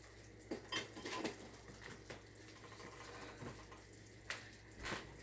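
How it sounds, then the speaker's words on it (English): Metal spoons clink against each other and nearby dishes in a quiet kitchen, several light, scattered taps over a few seconds with no talk. "I'm going to get a spoon for each of those."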